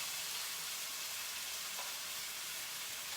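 Steady, crackling sizzle of food frying in a hot pan, a continuous bright hiss with no talking.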